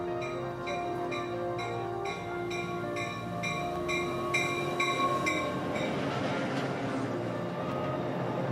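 A train rolls steadily along the tracks with a rhythmic clickety-clack of wheels, then grows louder and rougher as cars rumble past.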